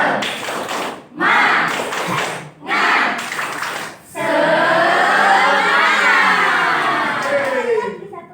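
Students in a classroom perform the rhythmic tepuk semangat spirit clap, loud bursts of patterned clapping in three short groups separated by pauses, then a longer stretch of chanting and clapping voices together.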